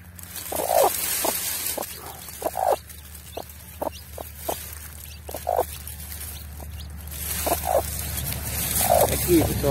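A broody hen clucks and calls with her newly hatched chicks in the brush, soft repeated clucks and peeps at close range, while a person talks over them.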